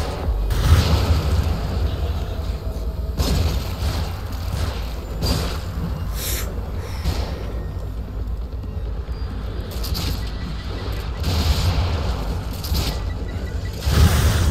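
Grenade blasts in the horror game The Evil Within: several deep booms and thuds over a continuous rumbling game soundscape, fairly loud, with brief voice bits in between.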